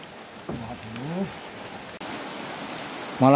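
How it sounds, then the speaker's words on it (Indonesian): Rain falls steadily throughout, a continuous wash with a brief break near the middle, outdoors at a rural transmigration house where stairs are being built; short bursts of voices rise over it. "Malah hujan teman-teman."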